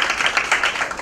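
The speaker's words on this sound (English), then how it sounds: "applause for that" Brief audience applause at a panel discussion on women's economic empowerment, a close, busy burst of clapping from many hands that fills the whole short moment.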